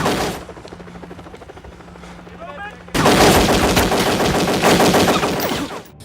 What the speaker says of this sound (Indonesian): agen FBI menembaknya hingga tewas